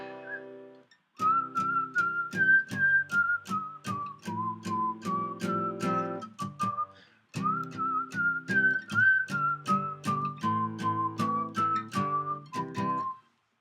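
A person whistles a Beethoven melody with vibrato, clear and close, in two long phrases of short, evenly spaced notes separated by a brief pause, with no talking.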